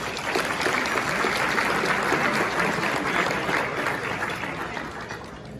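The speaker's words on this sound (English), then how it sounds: "So if we could give all of those sponsors a nice round of applause." A room of guests at an award luncheon claps steadily for the event sponsors, a dense, even round of applause that holds strong before easing slightly toward the end, with no voices over it.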